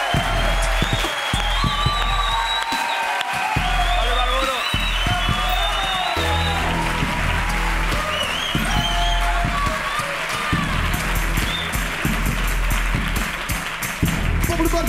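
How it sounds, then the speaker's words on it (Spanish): Studio audience applause with cheering at a Spanish late-night show, a dense continuous wash of clapping and crowd noise that holds steady and loud throughout, with voices rising out of the crowd. "Un aplauso para Pablo Ibarburu en la Resistencia."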